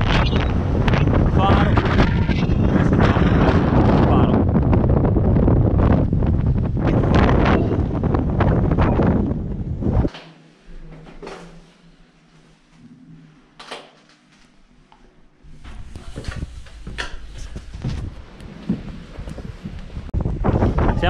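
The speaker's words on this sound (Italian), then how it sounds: "È un discreto vento." Strong wind buffets the microphone on a Danish beach during a bikepacking ride, loud roaring gusts for about ten seconds, then a brief calmer lull before the buffeting returns.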